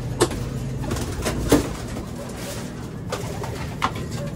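Pigeons coo softly and steadily against a constant background hum, with a few brief louder bursts of cooing scattered through.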